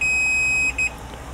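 A Fluke 179, 177 or 175 digital multimeter gives a continuity-test beep: a loud, steady electronic tone that holds for most of a second, then breaks into a couple of short pulses, with no voices.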